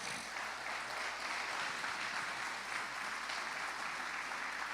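A church congregation claps together for Jesus during a sermon, a faint, steady and dense wash of hands heard from a distance for several seconds, with no talking over it.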